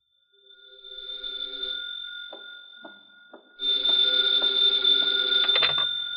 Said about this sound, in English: Then there was the phone.